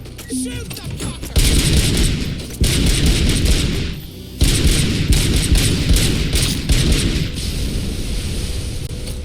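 Heavy gunfire from the RoboCop: Rogue City video game: loud, dense bursts of shots with booming impacts that come in several sustained volleys, a short lull near the start and another midway.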